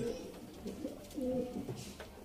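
Pigeons coo softly nearby, their low burbling calls repeating and overlapping at a low level.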